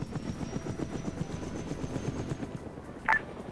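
A video game helicopter drones steadily with a rhythmic rotor thump throughout, and a short electronic beep stands out near the end.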